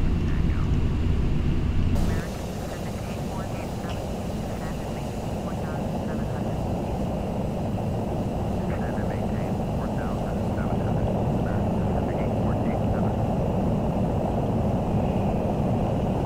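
A steady airplane engine drone from the game Flight Simulator X holds as the aircraft climbs. It stays loud and continuous throughout, with a brief sharper start at the beginning.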